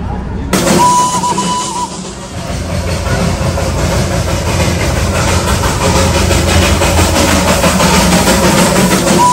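The Darjeeling toy train stands at Batasia Loop, its engine idling loud and close in a steady rumbling drone with faint rail clatter throughout.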